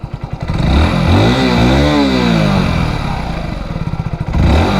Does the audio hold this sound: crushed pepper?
no